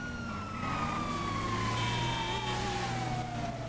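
A fire engine or emergency vehicle siren wails steadily and loudly throughout, its tone gliding slowly downward over a constant low engine and road rumble, with no talking.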